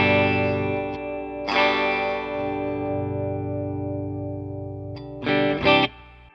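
Guitar through the direct output of a Mesa Boogie Mark IV amplifier: a sustained, processed chord rings steadily, with a couple of brighter picked accents near the start and a louder strummed burst near the end, and no voice.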